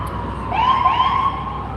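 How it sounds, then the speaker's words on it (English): A police car siren rises and wails once, moderately distant, over low city traffic rumble in a downtown street, with no one speaking. "Whoop whoop. That's the sound of police."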